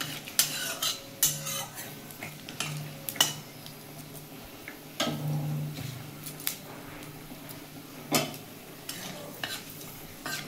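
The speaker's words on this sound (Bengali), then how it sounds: "এই ফোড়নটা আমি একটু ভেজে নেবো যতক্ষণ না গন্ধ ওঠে" Panch phoron spices fry in oil in a pan for vegetable lentil dal, with a faint, steady sizzle under repeated sharp scrapes and clinks of a metal spoon stirring against the pan.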